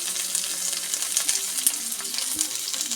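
Shallots and green chilies fry in hot oil in a pan, giving a steady, close sizzle with small crackles and pops over the full three seconds, and no voices.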